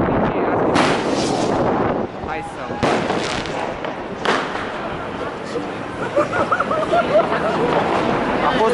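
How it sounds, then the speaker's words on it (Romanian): Fireworks explode on New Year's Eve in Berlin, several loud sharp bangs spaced through the scene with crackling and rumbling between them, under outdoor wind noise and crowd chatter while people talk nearby. "Artificii,"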